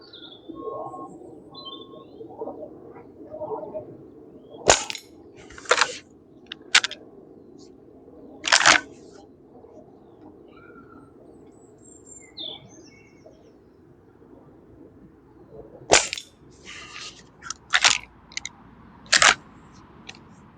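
An Umarex Legends Cowboy air rifle fires lead pellets outdoors at a 25-yard target, giving several sharp, short cracks in two separate bursts, with birds chirping quietly in the background between shots.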